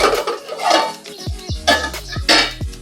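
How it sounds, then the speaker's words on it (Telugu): A lid being set on a metal pot of gongura intestine curry, with several sharp metallic clanks and clinks in quick succession, close and fairly loud, over a low kitchen background. "ఇప్పుడు మూత పెట్టేస్తాను."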